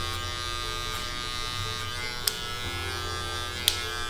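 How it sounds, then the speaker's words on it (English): Electric hair clippers buzz steadily and close up while blending a high skin fade, with the lever adjusted between guards; two sharp clicks cut through the continuous hum. "So a lot of this is lever play and bouncing around between different clipper guards in order to make this blend"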